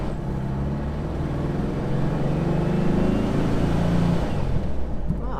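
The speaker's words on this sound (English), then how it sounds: "Engine sounds pretty good." A Porsche Speedster engine drones steadily while driving, a low rumbling note that rises slightly in pitch mid-way, heard from inside the car with no talk.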